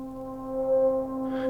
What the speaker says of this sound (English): It's a very simple, slow kind of pad.